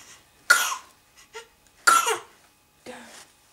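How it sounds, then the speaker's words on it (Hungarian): A baby reclining in a bouncy chair gives three short coughs spaced about a second and a half apart, close and clear against a quiet room, with small throaty sounds between them. "Túlságosan vidám vagy, azért köhögsz."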